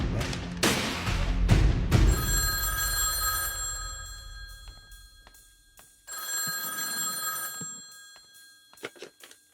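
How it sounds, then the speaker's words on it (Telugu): A telephone bell rings in two long bursts of bright, sustained metallic trilling, loud and close, after a few heavy thumps at the start; short clicks and knocks follow near the end, with no talking. "నేను ఫోన్ కాల్ మాట్లాడేసి వస్తాను"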